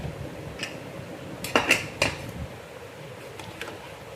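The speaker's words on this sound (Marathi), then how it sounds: "कुकर उघडून बघूया डाळ झाले का." A pressure cooker of moong dal with potato is opened after its whistles, with a few metallic clanks and clatters of the lid and pot close by, then quiet.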